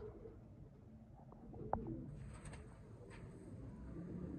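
Quiet, low cooing of Sialkoti rooftop pigeons, a few soft murmured calls at a distance against faint background hiss.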